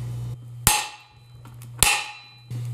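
Two sharp metallic hammer taps on a ball joint of a Dana 60 axle, spaced about a second apart, each ringing briefly over a low steady hum in a quiet shop.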